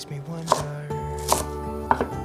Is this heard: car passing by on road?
no